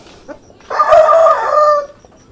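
A native Darag rooster gives one loud, close crow of about a second, rising and then holding its strained tone, with quiet pauses on either side and no talk.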